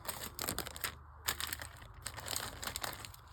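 A torn plastic bag crinkles and rustles around straight razor blades, with irregular close-up crackles and crunches in a quiet room.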